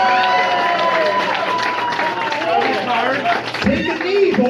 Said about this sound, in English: let's have a big cheer for our two token black friends tonight